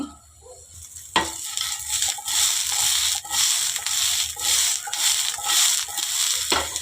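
Okra and sambar masala sizzle steadily in a pan while a spoon scrapes and stirs through it, with a few louder stirring knocks, up close and continuous.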